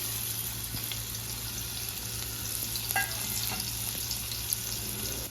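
Steady, even sizzle of onion frying in a little oil, crackling hiss throughout, a few faint clinks and stirs over it, no voices.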